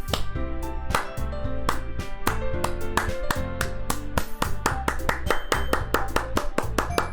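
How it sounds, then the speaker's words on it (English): Scripted applause rings out in the video game Doki Doki Literature Club: rhythmic hand claps land in a steady beat over loud, tonal game music that runs throughout. "I'm the first to start applauding."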